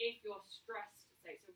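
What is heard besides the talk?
No everyday noises stand out.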